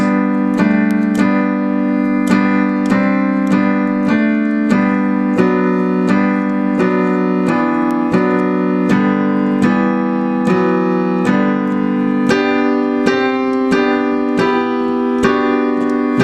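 Steady piano notes played one after another in an even rhythm, clear and close, with no voices.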